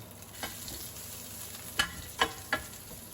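Chili and garlic stir-frying in a hot pan, a low steady sizzle broken by a few sharp spatula scrapes and clanks near the end, with no voice.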